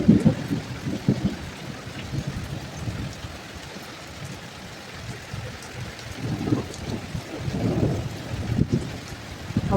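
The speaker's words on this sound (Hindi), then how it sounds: "बहुत तेज बारिश हो रही है और ओले भी गिर रहे हैं।" Heavy rain and hail pour down steadily, with gusts of wind swelling and easing through the downpour.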